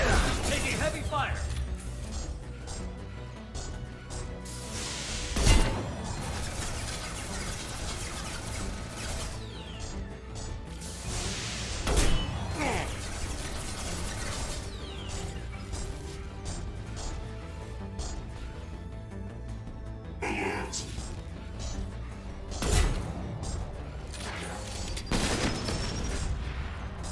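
Gunfire in Mass Effect 2 Legendary Edition on Insanity difficulty, bursts of rapid weapon fire and metallic mechanical clatter with several loud impacts, mixed with game effects and spoken voices throughout.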